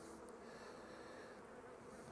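Honey bees hum during a hive inspection, a soft continuous buzz with no voices, steady and faint.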